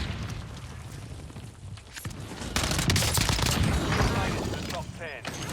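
Gunfire in a Warzone match, including a MORS sniper rifle, a loud crackling burst of overlapping shots and blasts that swells midway and keeps going, with a voice speaking over it.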